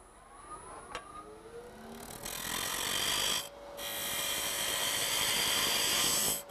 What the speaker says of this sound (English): So I'm just going to turn a little bit away. I'll use the spindle gouge.